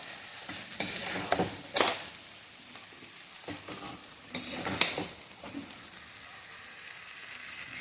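Vegetable stem curry (data chochchori) cooked with mustard oil and mustard paste is sautéed in a pan, with a soft sizzle broken by several sharp spatula scrapes and stirring clatters close by.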